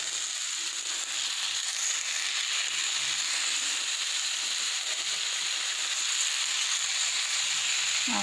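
Chopped tomatoes sizzle in a hot pan for Maggi masala pasta, a steady broad hiss that holds evenly throughout without breaks, close and fairly loud, with no talking.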